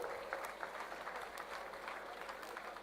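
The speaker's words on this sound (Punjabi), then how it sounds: "ਜ਼ੋਰਦਾਰ ਤਾੜੀਆਂ ਹੋ ਜਾਣੇ" Dense, steady applause from a large audience at a state-level Independence Day ceremony in Faridkot, Punjab, during a mounted police horse display; many hands clap continuously and fairly close, with no pause and no clear speech.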